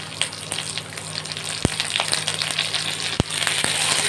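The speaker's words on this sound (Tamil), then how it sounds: "இந்த மாதிரி கீறிட்டு நம்ம இதை வந்து தக்காளி ஆட் பண்ணிக்கலாம்." Whole tomatoes, each scored with a slit, dropped into a hot pan for chutney, giving a steady loud sizzle and crackle with two sharp clacks as they land.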